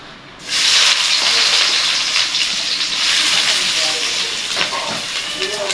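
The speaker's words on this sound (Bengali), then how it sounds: "আজকে তেল ভেজে নেব পেঁয়াজ মরিচ দিয়ে" Onions and chillies drop into hot oil, setting off an abrupt, loud, steady hissing sizzle that holds strong and close from just after the start to the end, easing slightly toward the finish.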